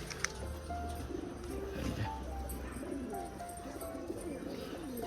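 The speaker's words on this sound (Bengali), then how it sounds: "এটা কিন্তু প্রচণ্ড বাজির পায়রা একটা দেখো এই যে এই টালির চালে নামলো" A racing pigeon perched on a tiled roof coos softly in repeated low, throaty phrases, with faint outdoor background noise and an occasional small chirp.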